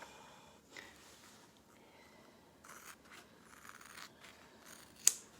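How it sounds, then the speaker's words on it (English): Scissors snip through vinyl in a few separate cuts, quiet and close, ending in one sharp louder snip, with faint rustling between cuts. "you'd cut this off with scissors"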